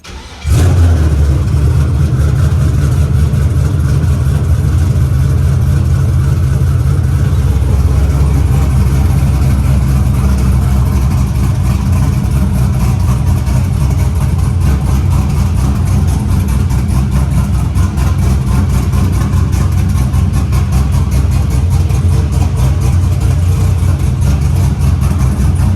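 A 1989 Chevy Box Brougham engine cranks and catches right away, then settles into a loud, steady idle heard up close for the rest of the stretch with no voices over it.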